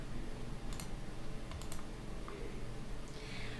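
A few quiet key presses on a computer keyboard during data entry in Korean year-end tax settlement software: scattered light clicks, some in quick pairs, over a steady low hum.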